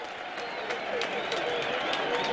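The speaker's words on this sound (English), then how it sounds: "You'll hear the cheers from the crowd." A football crowd at a Championship match between Burnley and Doncaster Rovers roars steadily as a free kick is won, a dense, loud wash of cheering and shouting with scattered claps that holds level throughout.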